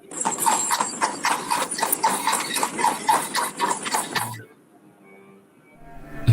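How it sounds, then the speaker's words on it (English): A horse's hooves clip-clop in a steady rhythm alongside the rattling jostle of a carriage, close and continuous for about four seconds before stopping abruptly into near quiet. "the horse's hooves and the jostle of the carriage begin"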